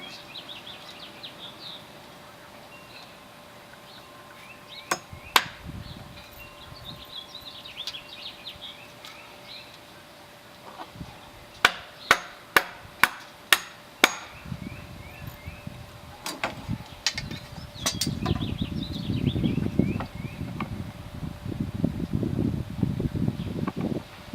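Hammering 16 penny cement coated sinker nails into a poly drum planter deck outdoors, a run of about eight sharp close strikes in quick succession with scattered single knocks, over wind, rustling and birdsong in the background.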